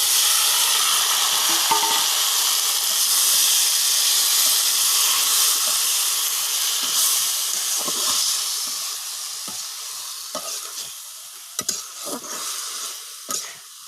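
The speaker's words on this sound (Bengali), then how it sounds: "শাকটা দিয়ে কয়েক মিনিট একটু নেড়েচেড়ে নামিয়ে নিব" Boiled jute field greens (sechi shak) hit a pan of fried onion, garlic and nigella seed and sizzle steadily, with intermittent stirring scrapes and clinks throughout.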